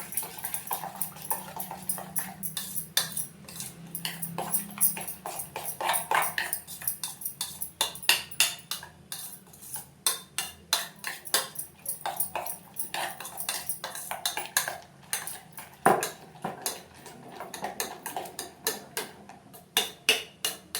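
A spoon works through rice in a pot, producing a long run of sharp clinks and scrapes in an uneven rhythm, close and fairly clear, with faint background hum and no speech.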